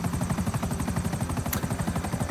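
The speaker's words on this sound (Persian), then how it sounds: "الان دوست پشت پرده داره فعلا هلیکوپتر رو هدایت میکنه" Helicopter flying in GTA V, a loud, close, rapid rotor thump beating in a steady rhythm throughout, with no talk over it.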